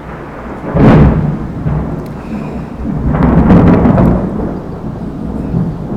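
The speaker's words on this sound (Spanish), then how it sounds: "Acabo de caer una tormenta épica" Heavy thunder rolls and booms through an intense thunderstorm, two loud rumbling peaks rising and fading over steady rain, with no voices.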